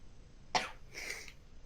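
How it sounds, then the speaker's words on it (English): A single quiet sneeze bursts out sharply, followed by a softer breathy tail, in a small indoor podcast setting with no talking over it. "That was just a sneeze to clear my sinuses."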